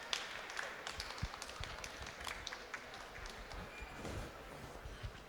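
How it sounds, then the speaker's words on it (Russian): Applause from a live audience at a children's book author event, a soft, even patter of many hands clapping at some distance, steady throughout without a clear start or finish. "поддержите ее еще раз своими аплодисментами"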